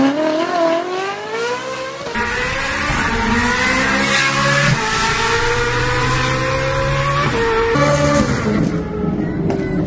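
A Ferrari engine revs repeatedly, pitch climbing and dropping through strong harmonic whines, loud and close, with no talking.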